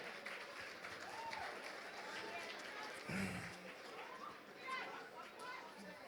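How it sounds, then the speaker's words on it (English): A round of applause for auction bidders at a charity luncheon gala, a broad, steady clatter of many hands in a room, with chatter and voices mixed in beneath it. "Let's give both our bidders a great round of applause for supporting Team Jamaica Bickle."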